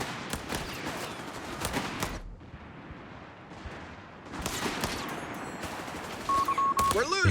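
Gunfire in the real-time strategy game Company of Heroes 3, with dense bursts of rifle and machine-gun fire cracking in rapid volleys, a brief lull in the middle, then more firing, with voices talking over the battle.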